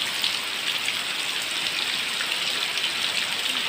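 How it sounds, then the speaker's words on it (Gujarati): Steady rain falls on a groundnut field, a continuous hiss of drops on surfaces, even and unbroken with no voices. "તો એ વરસાદ ચાલુ છે"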